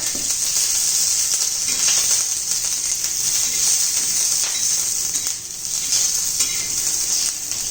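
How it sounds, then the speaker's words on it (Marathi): Green chillies and garlic frying in a little oil for a spicy chilli-onion thecha, giving a steady, close, loud sizzle that runs unbroken throughout with faint stirring scrapes and no talk. "आता मिरच्या आणि लसूण ते थोडं तेल टाकून परतून घेऊ थोडं"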